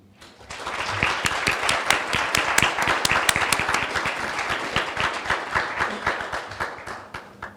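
Audience applause welcoming the first speaker at a Designing Deseret event, starting quickly, swelling into dense clapping, then thinning to scattered individual claps near the end.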